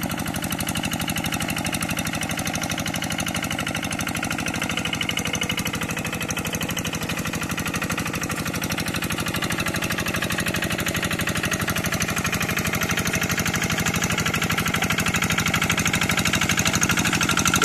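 A rice paddy field tractor engine runs continuously up close, a loud, steady, knocking chug that holds an even rhythm with no pauses or voices.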